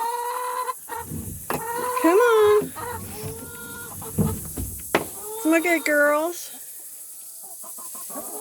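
Several hens cluck and squawk in bursts, close by, while being coaxed to roost for the night, as a person speaks softly to them in between.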